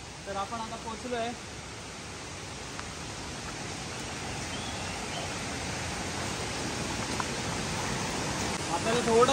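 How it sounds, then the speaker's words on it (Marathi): Steady broadband roar of a waterfall in Kokan near Sawantwadi, flowing a little lighter than usual, heard up close and continuous, with a few brief voices near the start. "आणि आता आपण पोहोचलो धबधब्याच्या इथे."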